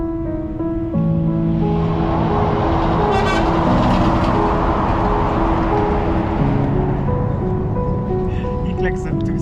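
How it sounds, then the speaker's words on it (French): Several car and truck horns honk over busy road traffic, long overlapping toots in a noisy jam with voices talking throughout. "Klaxonnent tous."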